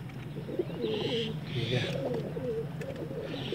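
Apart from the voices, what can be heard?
pigeons cooing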